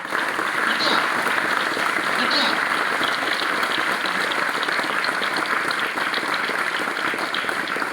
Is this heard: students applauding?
yes